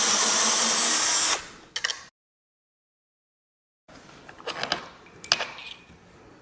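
A power tool whirs briefly as it backs out windscreen bolts on a 2025 Zero SR/F motorcycle. After a silent gap come light metallic clinks as the loose bolts are removed and handled.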